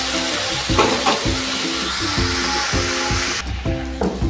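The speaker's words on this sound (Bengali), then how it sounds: "এটা আমি এখন ভেজে নিচ্ছি এই কড়াইতে।" Eight kinds of vegetables frying in an iron wok for village-style navaratna khichuri, a steady loud sizzle with repeated clanking spatula strokes and stirring, no talk.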